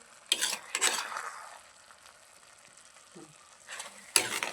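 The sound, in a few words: stirring carrot halwa in a pan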